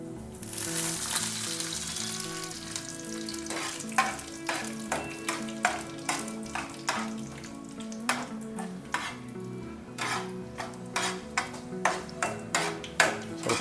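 Curry leaves sizzle and crackle in hot oil for uppittu, a steady close frying hiss broken by frequent sharp pops and a spoon scraping and tapping the pan.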